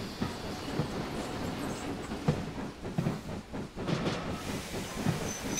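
BR Standard Class 9F steam locomotive approaching in a train simulator game, a continuous rumbling rail roar with hiss and faint rhythmic clatter, growing and swelling with no talk.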